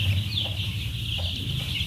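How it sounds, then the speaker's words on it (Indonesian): A flock of young chickens about twelve days old in a farm group's coop in Bogor, Indonesia, keeping up a steady dense chorus of high peeping and clucking with a low background rumble, close and continuous. "Ini ayam yang baru di DOC, ayam umur 12 hari"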